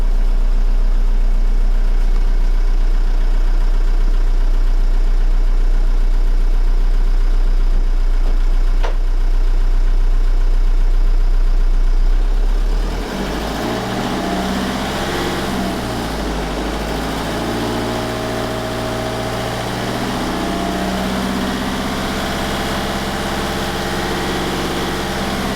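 A 2009 Renault Megane Cabriolet III with a poor-performance fault idles, then its engine is held at a steady 2000 rpm, a loud continuous hum and drone that shifts pitch partway through, with no talk.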